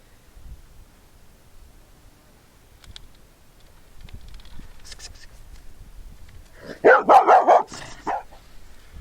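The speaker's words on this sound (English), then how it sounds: "This is what I call a little coyote." A small young female coyote gives a quick burst of several sharp, yipping barks with growling near the end, close and loud after quiet rustling and faint background noise.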